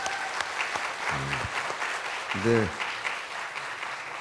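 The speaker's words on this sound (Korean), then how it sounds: "한번 박수해 주세요." An audience claps in a steady, moderate patter that runs throughout, under two brief bursts of someone talking.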